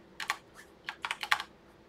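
Keys clatter on a computer keyboard while code is typed, two quick bursts of close, crisp clicks with a short pause between, no voices.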